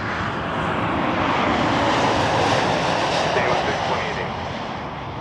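An airliner roars down runway 05 at Toronto Pearson on its takeoff roll, a loud, broad, steady jet rumble that builds and then slowly fades near the end.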